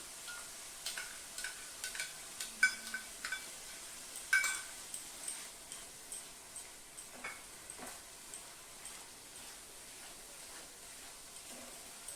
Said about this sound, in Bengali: এখন গ্যাসটা বাড়িয়ে আমি একটু মশলাটা ভেজে নেব।